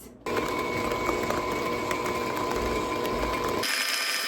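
Stand mixer set on speed 6 whipping heavy whipping cream toward butter: a steady, close motor whir with rhythmic churning that runs loud and unbroken, then stops abruptly near the end.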